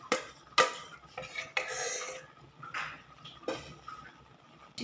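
Carrot halwa with added cream being stirred in a metal pot, giving repeated scraping and clinking strokes of a spoon against the pot, close and moderately loud with no talking.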